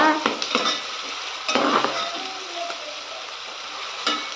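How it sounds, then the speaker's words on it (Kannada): Onions frying in a pan for egg rice, a close hiss of sizzling oil with a few sharp scrapes and clinks of a spatula against the pan. "ಈರುಳ್ಳಿ ಕೂಡ ಚೆನ್ನಾಗಿ ಫ್ರೈ ಆಗಿದೆ"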